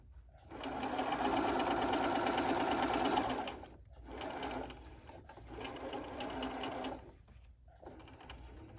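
A sewing machine stitches a fitted fabric face mask in three bursts, a long loud run followed by two shorter ones, each separated by brief pauses, with no talking.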